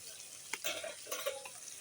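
Quiet sizzling of potatoes frying in a pan with a few scraping, stirring clinks of a utensil; no voices.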